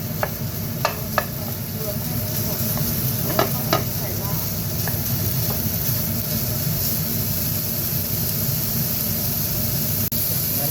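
Minced pork stir-fried in a hot pan for Thai larb made with instant noodles, a steady loud sizzle with scattered scraping stirs and spatula clicks running throughout, no talking.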